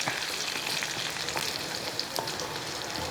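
Mustard seeds splutter in hot oil with shallots, dried red chilies and curry leaves, a close, steady frying sizzle peppered with quick sharp pops throughout.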